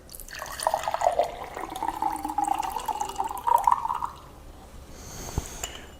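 Tap water drains from tomatoes being strained in a kitchen test, running in a steady pour and splash for several seconds before it tapers off to a few light drips.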